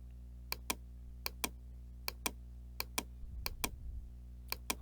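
An Acer Aspire E5 473G laptop keyboard is typed on in short clusters of crisp, quiet key clicks over a faint steady hum, close by and with no voices.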